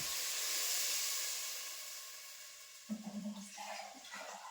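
Water pours steadily into a pot for cooking rice, a close, rushing hiss that fades and then gives way to light clinks and splashes, with no talking.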